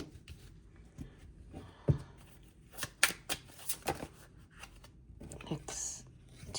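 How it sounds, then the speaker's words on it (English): A deck of cards is cut and shuffled in scattered soft bursts of riffling and tapping, close and quiet, with brief pauses and no talk. "I'm going to cut the cards."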